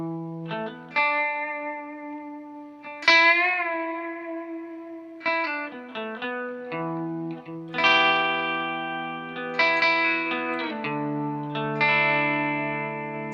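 An electric guitar through a Walrus Fundamental Tremolo pedal plays sustained chords and single notes, the volume pulsing in a gentle wavering shimmer as each note rings out.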